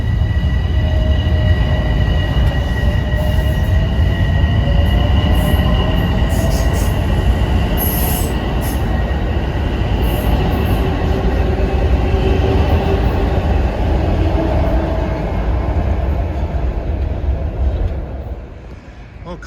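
Commuter train 766 from Croton Harmon rolls toward Grand Central through Harlem, rumbling loudly and close with high, drawn-out wheel squeals over the steady rail noise, easing off at the end.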